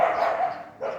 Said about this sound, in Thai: แถวนี้หมาเยอะนะคะ เพื่อนๆอาจจะได้ยินเสียงหมาเห่านะคะ